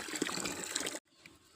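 Water fills a concrete trough for farm livestock such as goats, a steady close gush for about a second that stops abruptly and leaves faint trickling and quiet background.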